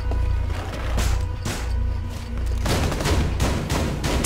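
Rapid, sustained gunfire during a team deathmatch on the Oregon map in Rainbow Six Siege: dense bursts of loud shots from several weapons overlap continuously.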